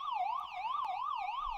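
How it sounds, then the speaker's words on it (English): Wailing police siren from a Doki Doki Literature Club mod visual novel, a steady rising-and-falling electronic wail sweeping up and down in even cycles, loud and continuous with no talking. "We're caught off guard once more by the sound of sirens blazing outside and footsteps approaching the house."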